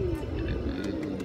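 A pigeon coos softly in a low, steady tremolo, close by, with faint chirps and light background noise around it.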